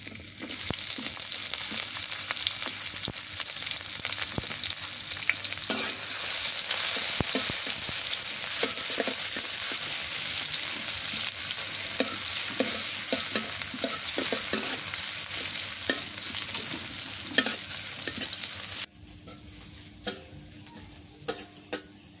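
Chopped onion and nigella seeds fry in hot oil, with a steady close sizzle and intermittent stirring scrapes throughout. The hiss drops abruptly near the end to a quieter crackle.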